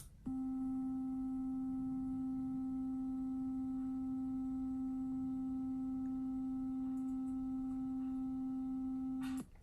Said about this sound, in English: So that sound is a pure middle C generated by